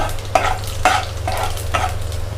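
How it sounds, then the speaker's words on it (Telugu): Tempering spices frying in hot oil in a kadai, with steady close sizzling and several rhythmic scraping stirs of a spoon across the pan. "పోపు దినుసులు వేసుకుందాము."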